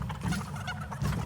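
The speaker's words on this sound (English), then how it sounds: "Alright, let's get these chickens." Chickens in the video game Fortnite cluck in short, low, rapid bursts, close and moderately loud for a brief moment.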